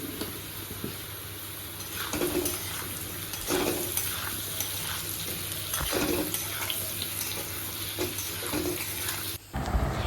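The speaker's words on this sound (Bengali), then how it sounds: "এবার আলু আর গাজরটা ভাজা হয়ে গেছে" Potatoes and carrots fry in oil with salt and turmeric, a steady close sizzle broken by repeated scraping stirs every second or two, with a brief dip near the end.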